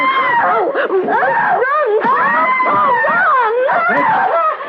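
A woman named Edna screams in a radio drama, loud and sustained, her wavering, wailing cries rising and falling without a break for several seconds.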